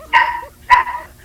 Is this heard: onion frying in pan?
no